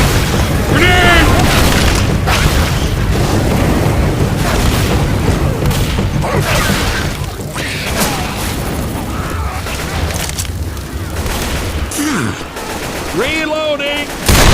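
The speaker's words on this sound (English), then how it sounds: "Grenade!" A grenade explodes during a Left 4 Dead 2 modded survival match, lost in a dense, continuous din of booms and rapid gunfire, with voices shouting through the chaos.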